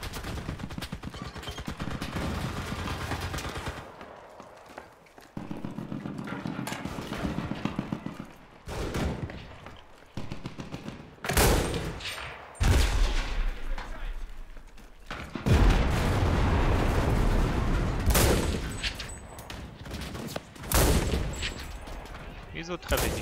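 Dense gunfire and artillery in the World War II shooter game Enlisted sound loud and continuous, with sharp bursts and heavy booms breaking up a sustained rumble of battle.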